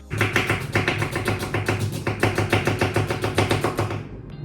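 A knife chops onions and curry leaves on a board for an easy chicken curry, with rapid, steady, close, loud strokes that continue with no pauses and no voices.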